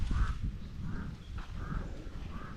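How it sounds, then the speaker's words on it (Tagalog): Crows caw from somewhere above a farm, giving four evenly spaced harsh calls at a moderate distance over low rustling background noise. "Yung may uwak pa din na sa taas."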